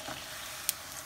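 Traditional Mexican buñuelos fry in hot oil with a steady, close hiss and sizzle, punctuated by one sharp pop.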